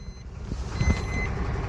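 A truck's reversing beeps sound over a low engine rumble as the vehicle is stopped near a stone crusher site, the beeps moderately loud with no clear speech.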